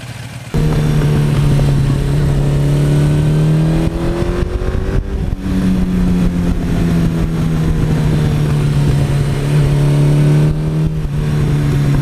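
A 1982 Suzuki GS1100E motorcycle engine idles loudly close by, then rises and falls through a couple of smooth revs before settling back to a steady idle.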